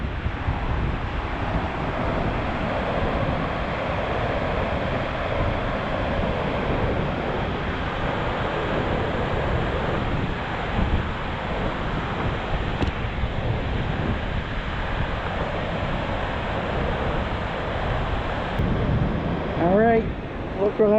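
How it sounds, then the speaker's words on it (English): Strong wind roars steadily through a river gorge beside a fast-flowing torrent while camping in New Brunswick, a loud, continuous buffeting that carries on the whole time. "there's a strong wind going through the gorge here"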